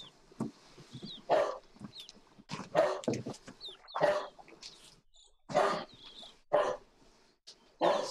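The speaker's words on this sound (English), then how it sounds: "Just start the stream and the dog starts barking." A dog barks sharply indoors again and again at irregular intervals over several seconds, each bark loud and close, with quieter sounds in the background between barks.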